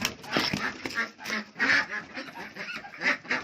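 Large ducks raised for slaughter quacking loudly and repeatedly at close range, a busy overlapping chorus of harsh calls.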